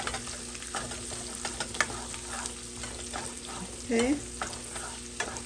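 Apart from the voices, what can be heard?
fresh chopped garlic frying in pan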